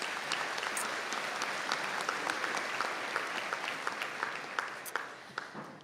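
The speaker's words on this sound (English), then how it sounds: "Can we give everyone a round of applause," Sustained applause from an audience at an academic conferring ceremony in Donegal, a dense steady clatter of many hands lasting throughout, tapering slightly toward the end with a few louder individual claps.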